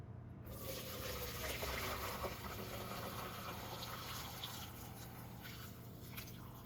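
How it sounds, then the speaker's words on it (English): Stock streams through a fine sieve in a steady, soft liquid trickle and gush, continuous and fairly faint throughout. "now I'm gonna sieve it again for just to let it have another more fine"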